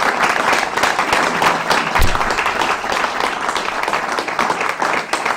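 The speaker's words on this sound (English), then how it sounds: "I hope our audience will give our candidates a round of applause this evening." An audience at a Kansas House candidate forum gives a dense, steady round of applause, many hands clapping loudly and continuously throughout with a low crowd murmur underneath.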